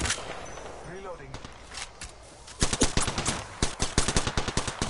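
Rapid automatic gunfire in Apex Legends while riding a zipline, bursts of close, sharp shots that grow denser and louder in the second half, with talk running alongside.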